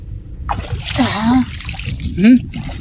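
A person jumps into the water of Remal Dam, with a broad splash and sloshing water amid loud outdoor voices and shouting close by.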